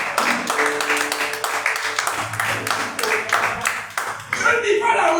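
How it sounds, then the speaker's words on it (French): A church congregation clapping and applauding in praise, an uneven run of close hand claps mixed with voices and a few chuckles. "Acclamez le Seigneur."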